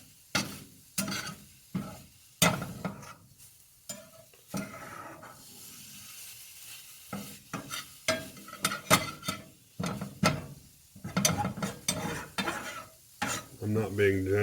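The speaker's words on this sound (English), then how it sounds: "Finish cooking up the scramble." Scrambled eggs are stirred in a Blue Diamond pan with a spatula, giving repeated scraping strokes at an irregular pace over a quiet, soft sizzle. The sound is close and moderately faint, and no one speaks.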